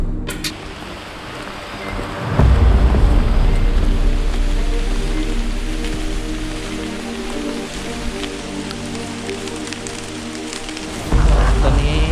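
Steady rain pours across a forest hiking trail in Thale Ban National Park, a dense broadband hiss that swells louder at a few points and carries low rumbling gusts, with no voices over it.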